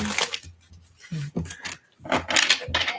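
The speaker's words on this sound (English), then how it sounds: "Last shuffle." Tarot cards are shuffled by hand in a few quick bursts of papery riffling and rubbing, close and fairly quiet, separated by short pauses.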